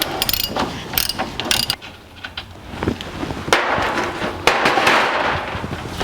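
A ratchet works on a 1982 Jeep CJ7 sway bar during front suspension disassembly, with close, rapid clicking bursts separated by pauses and shifting metallic clatter.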